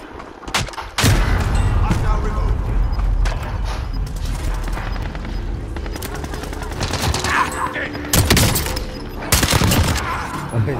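Gunfire in Call of Duty Warzone on Rebirth Island, with loud sharp shots, short bursts and booms over a constant game din, including a sniper firing at the player. People talk throughout.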